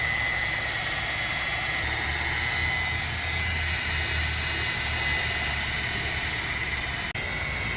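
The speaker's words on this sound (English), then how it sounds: "rub it all over your headlights first in a consistent texture, and then start buffing and polishing" Car headlight being buffed and polished with compound by a rotary polisher, a steady close whirring hum that runs continuously without pause.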